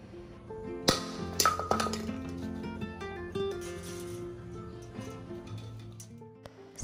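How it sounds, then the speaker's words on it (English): A Crystalac-coated tumbler dropped from three feet lands with a sharp clink and several ringing bounces, then rattles and settles, with faint scattered taps afterward. "Crystalac 3 feet drop."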